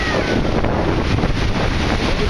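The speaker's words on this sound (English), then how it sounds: "Big waves just crashing in." Big, rough surf crashes and churns steadily along the shore, a loud, continuous roar of breaking waves mixed with gusty wind buffeting the microphone.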